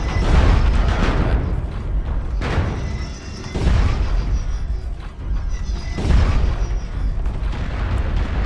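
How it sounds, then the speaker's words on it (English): Artillery shells strike in MechWarrior Online, sending heavy booming blasts that hit in three or four loud waves, each decaying into a rumbling roar before the next impact lands. "They went ahead and dropped an artillery strike on us."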